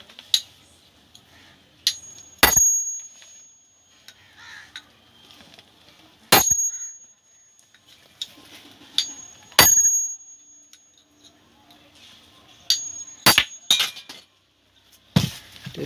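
Sharp metallic clinks and taps ring out as a bearing is worked off a ceiling fan motor, a handful of isolated bright strikes spaced a few seconds apart over quiet background.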